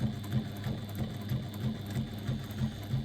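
Sewing machine with a size 16 needle stitching thick fabric, a steady rhythmic mechanical thumping about four beats a second, close and moderately loud.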